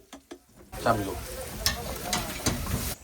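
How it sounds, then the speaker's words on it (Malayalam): Sliced onions and garlic paste sautéing in a pan, a close steady sizzle with stirring scrapes and a few spatula knocks, starting after a quiet moment. "സവാള എല്ലാം വാടി വരുമ്പോൾ വെളുത്തുള്ളി പേസ്റ്റാണ്ട ചേർത്ത് കൊടുക്കണത്"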